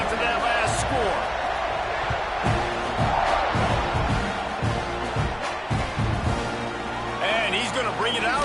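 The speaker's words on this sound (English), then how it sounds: "this crowd is buzzing after that last score" A college football stadium crowd at a Clemson versus Texas A&M game buzzes after a score, a dense, steady roar of voices with scattered claps and shouts, and a commentator talking over it.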